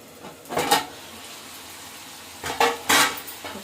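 Cabbage fritters in a curry gravy being fried and stirred in a pan, with soft sizzling and two bursts of utensil scraping and stirring, close by and without speech.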